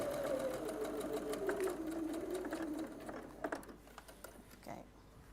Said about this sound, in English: I'm just going to go and stitch back and forth a couple of times at the beginning and the end